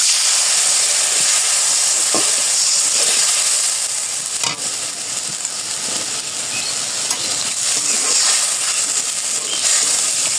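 A spice paste of cumin, coriander, ginger and chili fries in a pan with a loud, continuous sizzle and hiss, broken by a few soft stirring knocks, with no talking.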